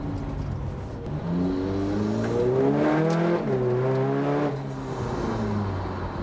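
A VW Caddy 4Motion with a swapped 2.0 TDI CUAA engine rated 356 bhp and a DSG gearbox pulls hard on a road test, its engine note rising steadily through quick gear changes, heard from inside the cabin.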